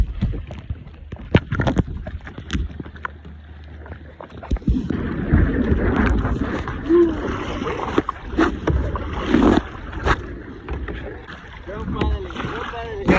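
Wind buffets a microphone outdoors near a lagoon at Bacalar, Mexico, making a low, uneven rumbling roar that grows stronger and gustier after the first few seconds, with faint voices mixed in.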